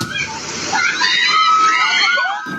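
Floodwater rushes and splashes along a road under construction in Batasan Hills, Quezon City, a loud, steady churning with spray throughout, and a voice and crowd sounds faintly mixed in.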